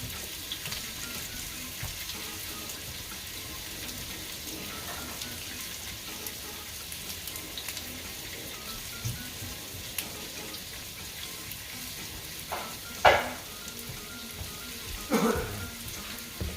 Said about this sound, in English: We got a little garlic and turmeric here we're going to throw in.